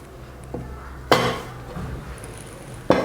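A metal kadhai is set down on an induction cooktop, making a sharp, close clank, then a softer shuffle and a second clank of metal on the glass surface in a quiet kitchen.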